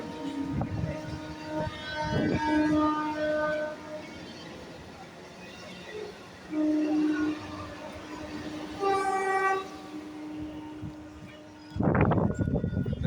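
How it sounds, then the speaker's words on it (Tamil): A train travels along a single shared railway track, its rumble rolling steadily with repeated horn blasts sounding from a distance, while someone talks over it. "ட்ரெயின் போகுது இப்போ பாருங்க அந்த வண்டி வருது பாருங்க"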